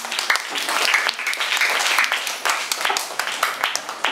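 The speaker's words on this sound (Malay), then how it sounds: "Berikan tepukan." A classroom full of people clapping together, a steady patter of applause lasting several seconds at moderate distance.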